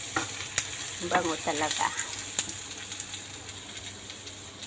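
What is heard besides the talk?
garlic frying in a pan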